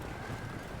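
Cavalry horses charging in the medieval battle game Field of Glory Medieval, heard as a brief, dense, steady rumble of hooves and wind-like noise with no voices.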